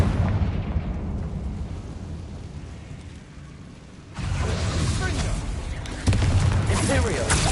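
Confringo explosive spell blasts in Hogwarts Legacy: a rumbling low roar fades, then two loud booming impacts hit in sequence, each louder than the last, amid battle noise.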